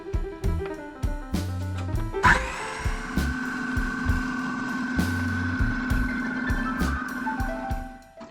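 A kitchen blender whirs steadily while blending hummus ingredients, its motor hum running continuously beneath a pulsing, rhythmic backing track.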